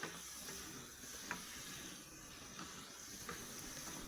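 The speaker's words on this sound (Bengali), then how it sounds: "অল্প নুন এবং একটু হলুদ দিয়ে ভালো করে নেড়ে চেড়ে মিনিট দুয়েক মতো এই মাছগুলোকে আমি ভেজে নিচ্ছি।" Prawns fry in a pan with a little salt and turmeric, giving a steady, close sizzle and hiss throughout, broken by a few faint clicks as they are stirred.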